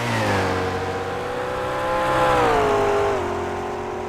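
Race car in the Grand Am Round 10 racing game, Auz/NZ season 3, speeding back onto the track after a pit stop. A loud, steady engine howl climbs through the gears with rising harmonic whine. It drops briefly at a shift near the end.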